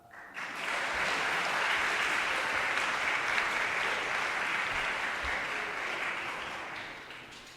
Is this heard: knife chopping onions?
no